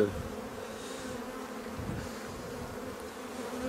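Honeybee swarm buzzing in a hive during a spring inspection, a steady low drone that is close but faint and continuous throughout the short stretch.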